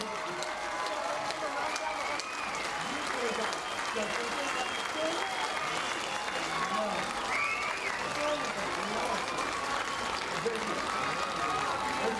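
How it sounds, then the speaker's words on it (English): Audience at a 2005 high school football game between Ardmore and Altus applauding for the senior class, a steady, dense wash of clapping and crowd noise from a large stadium crowd that lasts throughout. "Let's get on our feet and give them a big round of applause."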